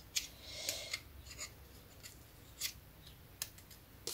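Scissors snip through paper for an envelope-window craft, giving a quiet series of short, crisp cuts at an irregular pace, close up and alone with no talking.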